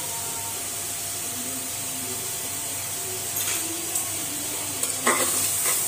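Minced kheema with cumin powder, chili and spices roasting in oil in a pan gives a steady soft sizzle, with a few brief scraping stirs toward the end.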